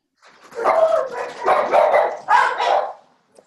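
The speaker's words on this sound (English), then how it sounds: "the dogs are loud and excitable" Several dogs bark excitedly in quick bursts, loud and close, with yips and short pauses between volleys and no voices.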